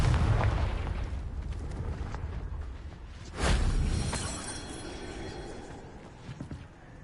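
Confringo fire-blast spell in a wizarding video game, a heavy booming explosion partway through, preceded by rumbling low noise and trailing off into fading debris crackle.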